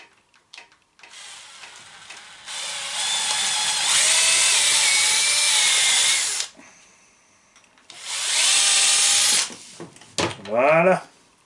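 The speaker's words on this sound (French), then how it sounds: "avec la visseuse. Ça fonctionne à l'envers, donc il faut desserrer" A cordless screwdriver drill runs in reverse to extract a screw, whining loudly in two long bursts with a quiet gap between, followed by short ratcheting clicks.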